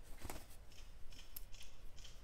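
A Rough Ryder RR1597 copper-handled fish knife slices through cardboard in a few short, faint scraping cuts, quiet and close.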